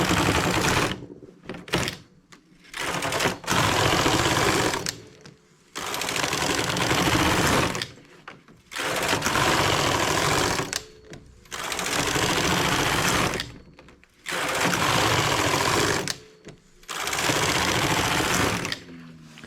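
A knitting machine carriage runs back and forth across eight rows, each pass a loud, steady mechanical rattle of about two seconds, separated by brief pauses in a regular rhythm.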